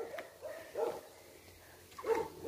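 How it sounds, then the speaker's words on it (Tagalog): Several dogs bark in short bursts, a little distant and fairly quiet, with a couple of louder yelps toward the end, on a narrow rural road. "Daming aso."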